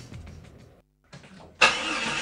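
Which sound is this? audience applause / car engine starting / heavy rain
car engine starting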